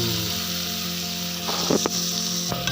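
Onion sizzles steadily in a hot pan, a continuous frying hiss with a few louder crackles and stirring clatters toward the end.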